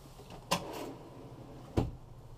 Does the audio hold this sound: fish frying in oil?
no